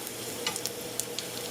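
Jeera, pimento and garlic frying in hot oil for a dhal tempering, a continuous close sizzle with crisp popping crackles scattered throughout.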